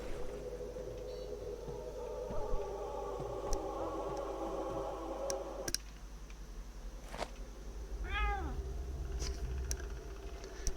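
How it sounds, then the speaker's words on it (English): A cat meows in the video game Pathologic 2, a single short rising-and-falling mew near the end over a low droning hum and faint ambient rumble. "Immediately greeted by cat noise."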